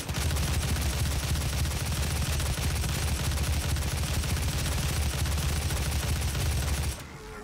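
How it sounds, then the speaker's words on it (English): Gunfire roars in the DOOM video game as a dense, unbroken stream of rapid, heavy shots, loud and close for about seven seconds before it cuts off abruptly. "So you just gotta fire a shit ton of bullets at him"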